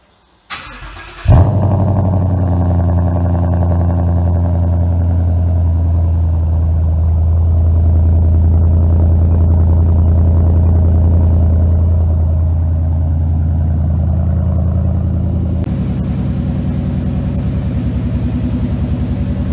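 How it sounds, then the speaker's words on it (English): A car engine cranks and catches after a short quiet moment, then settles into a steady, loud, close idle that warms up on a snowy day. The low rumble drops slightly near the end. "let me start my car. I have to warm it up before I go to work"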